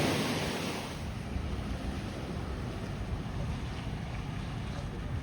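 Surf washes steadily onto Blind Pass Beach in Florida, a constant broad roar of waves mixed with heavy wind rumble on the microphone, no clear break in the sound.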